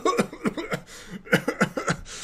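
A D&D player voices a character's coughing fit as a burst of several rough, throaty coughs in uneven rhythm, close and fairly loud, with brief pauses between clusters and a little breathy laughter mixed in.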